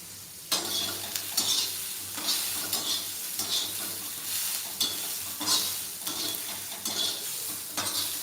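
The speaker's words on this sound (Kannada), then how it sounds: "ಸಣ್ಣದಾಗಿ ಕಟ್ ಮಾಡಿರೋ ಈರುಳ್ಳಿ ಇದು ಈರುಳ್ಳಿ ಫ್ರೈ" Finely chopped onion fries in oil in a pan, a continuous crackling sizzle broken by regular scraping strokes of a spoon stirring, close up.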